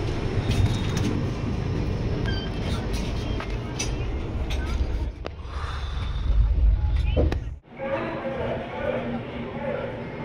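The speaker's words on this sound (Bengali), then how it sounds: "দুর্গাপুরকে পেছনে ফেলে আমাদের ট্রেন চলে এলো তার দ্বিতীয় গন্তব্য আসানসোল জাংশনে" Inside the Sealdah–New Delhi Rajdhani Express between Durgapur and Asansol, a steady low rumble of the running train fills the coach, with faint clatter and a brief drop near the end.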